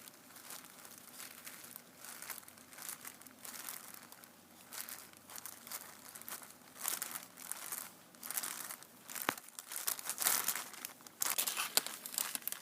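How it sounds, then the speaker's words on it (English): Rubber loom bands are dumped into a plastic Ziploc bag, making close, irregular crinkling and rustling bursts that grow busier toward the end. "you're going to take your rubber bands and just dump them into the Ziploc bag"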